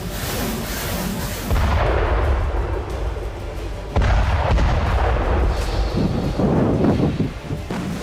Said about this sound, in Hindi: रूसी फौज यूक्रेनी पोजीशंस पर फास्फोरस बम से हमला कर रही है